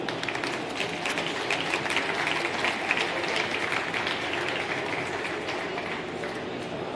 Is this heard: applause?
yes